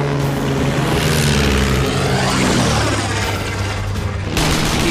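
A German Fokker triplane fires on a British SE-5 biplane: loud propeller engine drone with rattling machine-gun bursts and booms, close and continuous, with no voices.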